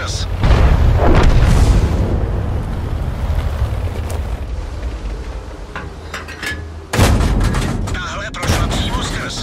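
Tank cannon shots striking armor in a video game with the Škoda T 25, with a couple of heavy booming blasts and a sharp crack among rumbling battle noise.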